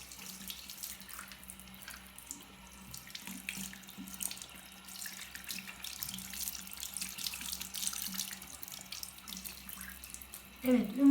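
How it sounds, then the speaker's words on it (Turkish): Steady stream of water running from a tap during a facial washing routine, a continuous hiss that stays moderately loud throughout with a brief louder splash near the end; no talking. "En son çeşmenin altına girerim"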